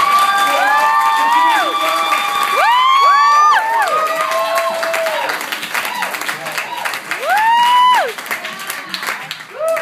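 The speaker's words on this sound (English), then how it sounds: "Start clapping now." A crowd cheers and claps, with excited shouts and whoops rising and falling over continuous applause.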